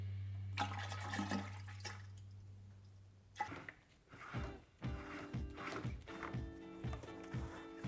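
Brake fluid poured into a container during a Porsche Cayman brake fluid flush, heard as trickling, dripping liquid with intermittent splashes after an initial low hum, fairly close and moderately quiet.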